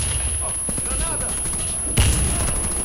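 A grenade explosion in a shooter video game, a sudden heavy boom near the end after a stretch of game noise and a voice talking over it.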